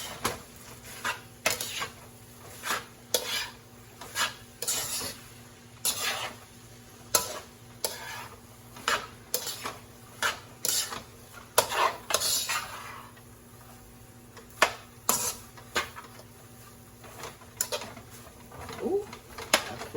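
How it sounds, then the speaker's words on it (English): A spoon scrapes and clinks against a pot stirring jambalaya filling in a steady, repeated rhythm, close by, with faint background hum and occasional birdsong. "Now I'll just mix all this up"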